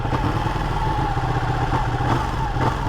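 A Ducati motorcycle engine runs close by with a steady mid-pitched drone and loose throttle slop, the revs rising and falling slightly, with light mechanical clatter mixed in.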